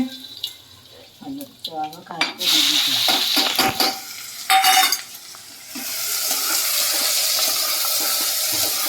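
Cut vegetables go into hot oil for khichdi, starting with scattered clatter and then swelling into a loud, continuous sizzle with stirring noises.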